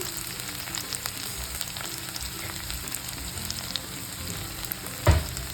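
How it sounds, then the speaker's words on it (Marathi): Chopped onions sauté in hot oil with homemade ginger-garlic paste for a spicy Solapuri usal, a steady close sizzle running throughout with a brief utensil knock near the end. "चांगलं कांदा परतून घ्यायचा"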